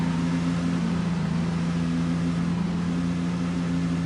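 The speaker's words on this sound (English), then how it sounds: "The engine sound of Sally Carrera in this game kind of reminds me of the engine sound of Porsche Carrera" Sally Carrera's car engine in a Cars video game, a steady, loud droning hum held evenly without variation.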